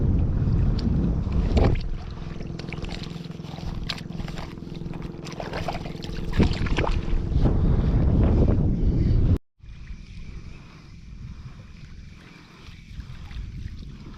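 A motor-driven bangka boat passes on open water during a fishing tournament, its engine drone steady and fairly close under wind noise for several seconds before an abrupt cut to quieter water and wind.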